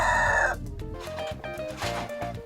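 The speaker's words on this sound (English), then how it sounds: "improve her chicken flock" Kienyeji chickens on a Kenyan smallholder farm: a rooster's loud crow cuts off, followed by a steady run of close hen clucks in a rhythmic, chattering pattern.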